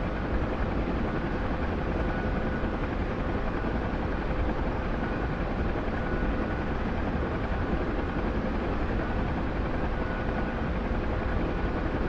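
A Bell UH-1 Huey helicopter flies in the DCS flight simulator, its steady rotor thump and turbine drone holding at an even, close level throughout, with no voices.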